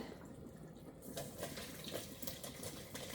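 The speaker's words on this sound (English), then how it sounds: "I'm going to go ahead and strain my broth that I've been making on top of the stove." Vegetable broth made on a stovetop is strained, and liquid pours and splashes steadily and softly. The splashing grows a little louder partway through.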